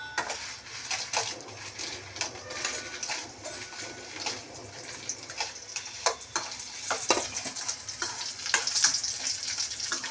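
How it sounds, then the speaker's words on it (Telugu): Dried red chillies fry in a pan over low heat, giving a steady close crackle and sizzle with scattered pops and occasional stirring scrapes throughout, and no voices. "ఇలా ఎండుమిరపకాయలు వేయించుకోవాలి"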